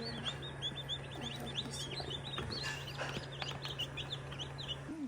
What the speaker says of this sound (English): A lot of new chickies.